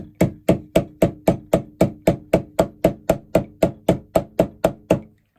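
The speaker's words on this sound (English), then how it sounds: "and then I'm going to use a hammer" Steady run of about sixteen sharp hammer blows, evenly spaced and loud, striking key fob hardware through a flexible plastic chopping board, each hit ringing briefly before the next.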